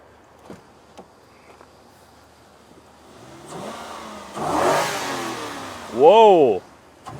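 A Lexus LS 430 engine that previously cranked without starting is revved hard twice, the first rise building gradually and the second a sharp, loud burst near the end, after quiet idle and a few faint knocks.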